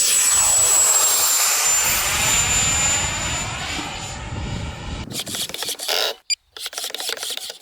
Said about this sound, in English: The Harrier lifts off at most exactly 60 km/h